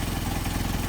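A Mercedes 190SL engine with Solex carburetors idles close by, a steady even chugging pulse that runs unbroken through the short moment with no voices.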